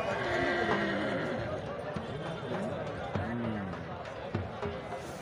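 Horse neighing with clip-clopping hooves at a neza bazi tent-pegging event, whinnies rising over a crowd's chatter and talk, hoofbeats scattered through.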